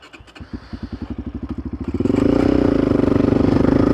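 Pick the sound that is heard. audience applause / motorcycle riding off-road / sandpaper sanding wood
motorcycle riding off-road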